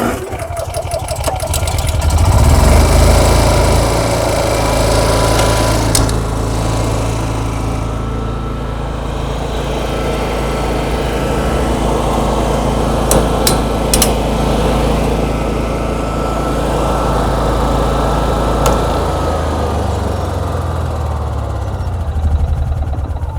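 A Honda EU6500is inverter generator runs steadily close by, a continuous low engine drone with a brief louder start at the outset, holding an even level throughout with no talk.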